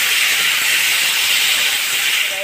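Thinly sliced tomatoes dropped into a hot pan give a loud, unbroken hiss of sizzling steam throughout.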